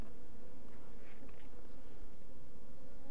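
Honey bees hum around beehives in an apiary: a faint, steady insect drone runs through the whole stretch with no talking.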